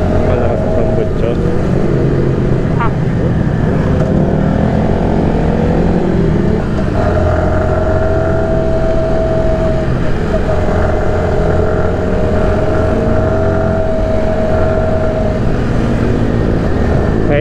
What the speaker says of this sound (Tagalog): Malakas sa tambutso.